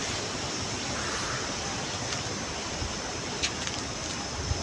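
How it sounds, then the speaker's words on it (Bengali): Strong wind blows steadily past the microphone outdoors among trees and green fields, a continuous broad rushing roar with a few faint ticks and no talking. "হাওয়া দেখো, শুধু হাওয়া।"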